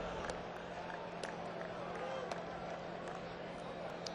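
A restless hometown baseball crowd at a major league game murmurs steadily at a distance, with scattered claps and shouts under ongoing talk.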